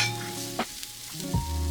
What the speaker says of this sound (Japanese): まずエシャロットを軽く炒めていただいて